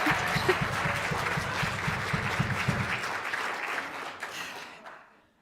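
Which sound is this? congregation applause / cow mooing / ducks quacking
congregation applause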